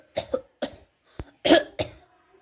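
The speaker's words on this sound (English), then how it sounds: "I'm having cough." A person coughs in a short series of separate bursts, close and fairly loud, with brief silent gaps between them and one throat-clearing sound near the middle.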